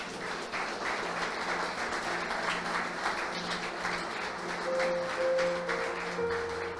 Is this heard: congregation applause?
yes